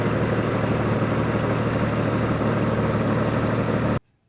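A Jeep Wrangler YJ's 4-liter inline six with 234,000 miles runs at a steady, loud idle close by, a constant throbbing rumble that cuts off abruptly at the end.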